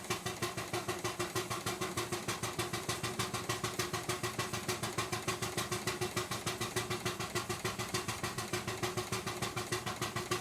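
Slowed-down exhaust beats of a small steam engine in rain, chuffing in a steady, regular rhythm close by with no talk over it.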